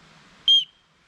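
The small whistle built into the strap buckle of a Petzl e+LITE headlamp gives one short, shrill, piercing blast lasting a fraction of a second in near silence.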